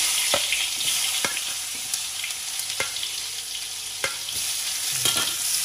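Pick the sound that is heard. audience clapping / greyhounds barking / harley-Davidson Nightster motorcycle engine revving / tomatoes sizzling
tomatoes sizzling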